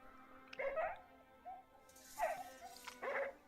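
A beagle gives a few short yips and whimpering barks in three brief bursts, close but fairly soft, with a faint steady hum in the background.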